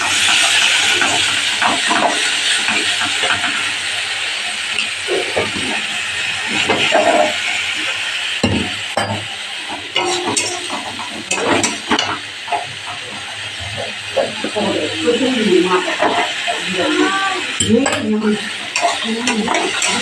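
Spice paste fries and is stirred in a pan for a bhola fish and brinjal curry. A loud, steady sizzling hiss continues throughout, with scraping and clinking of a utensil against the pan. Occasional voices can be heard.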